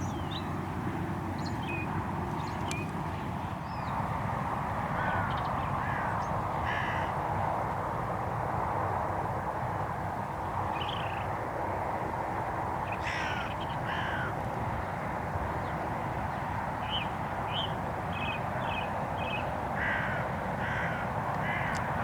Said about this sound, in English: it did spend quite a bit of time circling around and crowing